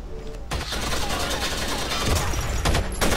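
Rapid automatic gunfire in the video game Rainbow Six Vegas, dense loud bursts filling nearly the whole stretch with a brief pause partway, and a voice speaking over it.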